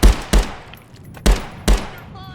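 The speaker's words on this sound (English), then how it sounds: "Go ahead and see what kind of accuracy we can get with shooting." Single-fire gunshots in a VR shooter game played with a haptic gunstock ring out as four sharp, loud cracks in an uneven rhythm, each with a short decaying tail and no talk.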